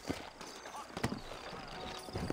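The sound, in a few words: horse hooves clip-clopping in video game Red Dead Redemption Undead Nightmare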